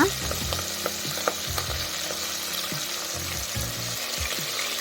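Ingredients for chicken biryani sizzle steadily in a pan, a continuous close crackle with occasional stirring clinks and scrapes throughout.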